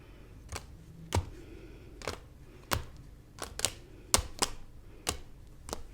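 A tarot card deck being shuffled by hand, heard as a string of sharp, separate card taps and riffle snaps, roughly ten distinct clicks spaced about half a second apart, close and fairly quiet with no voice.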